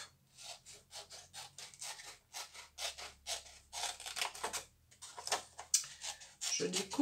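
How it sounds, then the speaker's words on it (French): Scissors snip paper at an angle while making an envelope, a run of quiet, close crisp cuts in quick bursts, with soft talking over parts. "Je découpe."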